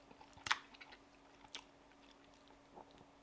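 Someone chews a mouthful of Huel spaghetti carbonara with chewy veggie bacon bits, close and quiet, with a couple of soft wet crunches and smacks spaced out over a few seconds.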